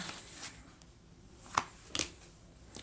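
Tarot cards are handled and drawn during a reading, making faint papery rustles and a few crisp snaps and slides, close and quiet, with no talking.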